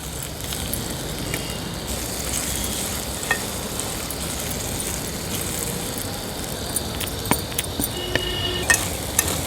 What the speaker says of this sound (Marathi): ही खिसलेली हळद आपण ह्या तुपावर घालूया आणि थोडी थोडी करून त्याला व्यवस्थित तुपावर आपल्याला परतून घ्यायची आहे